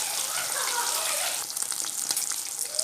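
Mosapparai fish fry in hot oil with a steady, hissing sizzle that stays close and even, with a few louder pops and crackles toward the end.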